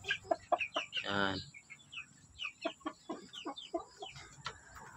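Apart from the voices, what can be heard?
chickens clucking in coop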